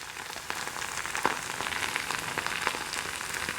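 Cheese frying on a cast iron griddle gives a steady, close, crackling sizzle, with scattered louder pops spitting through the hiss.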